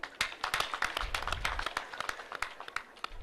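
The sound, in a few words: audience applauding the chairman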